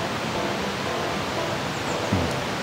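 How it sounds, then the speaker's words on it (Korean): Continuous rushing water of a mountain stream flowing steadily nearby at a campsite near waterfalls in Lauterbrunnen, Switzerland, with a soft, even hiss and no pauses. "저쪽에는 보이진 않지만 막 물소리가 들리고."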